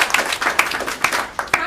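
Scattered applause from a conference audience at a healthy food environments event, a handful of separate claps spread across a brief moment rather than a full ovation.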